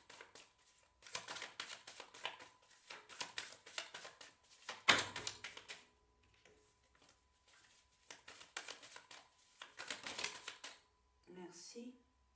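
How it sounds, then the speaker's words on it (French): Tarot cards being shuffled and drawn at close range: rapid, crisp riffling and flicking bursts come in clusters separated by short pauses, with a sharp slap partway through and a brief voice near the end. "Allez, je demande 3 cartes, s'il vous plaît."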